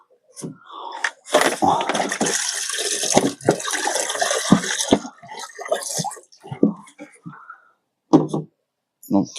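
Water pours and splashes into a parts-cleaning tank holding mechanical parts, arriving in uneven gushes mixed with a person talking nearby.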